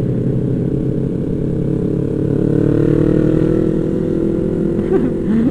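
A motorcycle engine drones steadily as the bike rides along a mountain road near Puncak, Cianjur, with a Kawasaki Z800 and Yamaha R6 in company. The tone rises slowly and holds, and a brief higher whine comes near the end.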